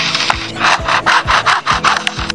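A lyrebird mimics an electric saw, giving a steady run of rhythmic rasping strokes like a blade cutting through wood, about eight regular pulses, close and loud, with no talking.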